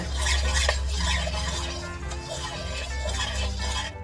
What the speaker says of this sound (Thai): แล้วก็คนผงวุ้นกับกะทิให้เข้ากันนะคะ